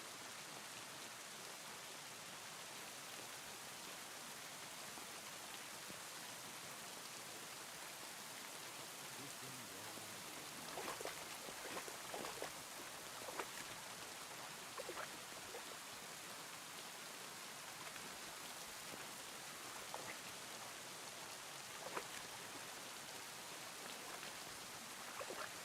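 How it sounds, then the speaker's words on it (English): Rain in the video game Kingdom Come: Deliverance II, a steady faint wash of falling rain with scattered droplet patter, continuous and even. "This rain is actually cancerous right now."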